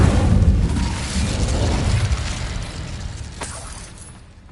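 Incendio fire spell cast in the video game Hogwarts Legacy: a loud roaring whoosh of flame with a heavy low-end burst that sustains, then fades away.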